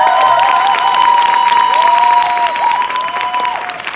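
Audience at an overnight corporate seminar in a Hyatt hotel applauds a network leader, a loud, sustained burst of clapping with some crowd noise, accompanied by steady tonal background music with sliding pitches.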